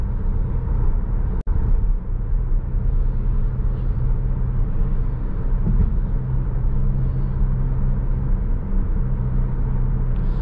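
Electric motor of a 2019 Tesla Model 3 Performance while driving, a steady low hum and rumble from inside the cabin with road noise, continuous and even, with one brief sharp click partway through.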